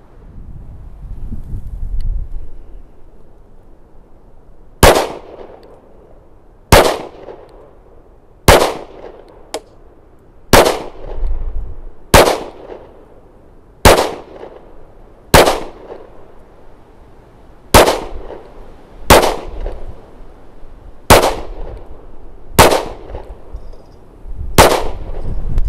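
A Smith & Wesson Shield Plus 30 Super Carry pistol fired outdoors from a 16-round extended magazine, about fourteen loud sharp shots at uneven intervals a second or two apart, with wind noise between them.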